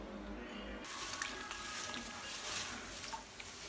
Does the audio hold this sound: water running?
yes